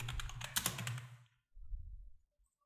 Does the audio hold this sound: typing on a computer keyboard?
yes